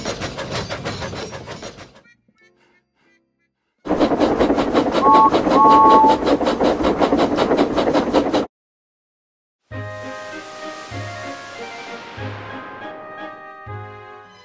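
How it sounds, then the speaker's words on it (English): A cartoon steam tank engine chuffs along in bursts, with rhythmic steam puffs separated by silences, then a whistle-like tone and lower rhythmic beats under faint musical tones. "Presley and Jimbo were chuffing towards the other side of the island"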